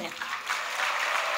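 Church congregation applauding, a dense wash of many hands clapping together, loud and steady through the brief moment, with voices mixed in.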